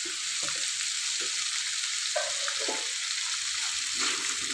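Small meatballs and tempeh stir-fried in a pan, a steady sizzle with occasional scrapes and light clinks from stirring, moderately loud and close, with no voices.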